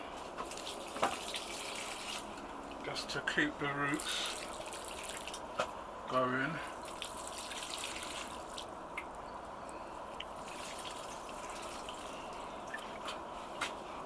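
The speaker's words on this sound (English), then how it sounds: "So I'm just going to give these a little bit of water, not a lot," Water trickles and splashes steadily as plants in raised garden beds are watered, with soft dripping throughout and someone talking intermittently over it.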